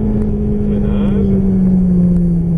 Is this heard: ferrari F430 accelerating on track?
yes